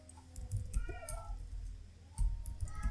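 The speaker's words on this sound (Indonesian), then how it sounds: "ini kucing berisik banget ikut-ikutan" A cat meows a few times indoors, short drawn-out cries at moderate distance, with soft keyboard tapping in the background.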